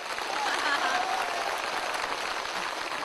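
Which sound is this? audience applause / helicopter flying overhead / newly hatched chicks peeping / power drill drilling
audience applause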